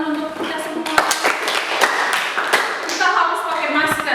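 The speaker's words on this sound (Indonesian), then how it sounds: "Tepuk tangan untuk kita semua." Clapping from pupils in a classroom during a science lesson, a burst of sharp claps with scattered taps, heard near and fairly loud, with voices mixed in.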